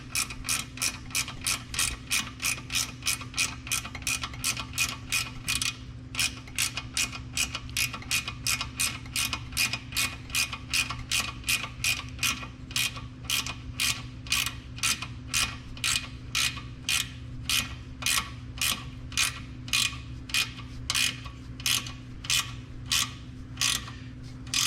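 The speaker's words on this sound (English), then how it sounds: "just on this wrench is pretty easy to get into here" A hand ratchet wrench tightens an exhaust pipe clamp on a KTM 890 Adventure R motorcycle, giving a long steady run of evenly spaced, crisp ratcheting clicks, close up, with a short pause partway through.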